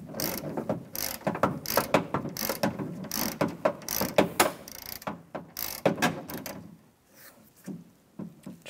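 A hand ratchet snugs down the exterior door handle bolts on a 2007-2013 Chevrolet Silverado, with rapid bursts of close pawl clicking in repeated strokes and short pauses, ending in a quieter stretch.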